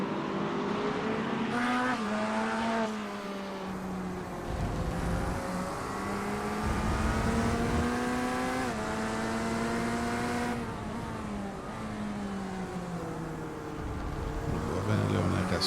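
Corvette GT3 race car engine at Okayama circuit in a sim racing game, revving and shifting through gears with rising and falling pitch, loud and continuous, with a commentator talking over it.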